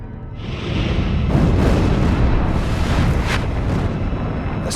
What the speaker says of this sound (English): The sound of explosions seemed to go on forever.